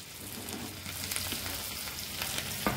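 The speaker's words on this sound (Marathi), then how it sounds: "त्यात आता आपण सुक्या 3 लाल मिरच्या सोडत आहे आणि आपला लसुणी पालक असल्यामुळे भरपूर असा बारीक चिरून घेतलेला लसूण मी यात सोडत आहे।" Three dried red chillies and finely chopped garlic sizzling in hot butter for a garlicky spinach dish, a close, even crackling hiss with small pops, heard alone.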